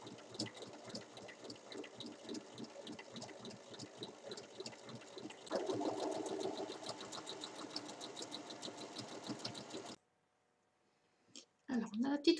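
A sewing machine stitches all the way around a small fabric pouch about 1 cm from the edge, running in a steady rapid rhythm for about ten seconds, growing louder partway through, then stopping with a couple of brief sounds after.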